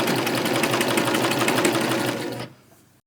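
A serger stitching around a curved corner of a baby washcloth, a fast, close, even rattling run of stitches for about two and a half seconds before stopping abruptly.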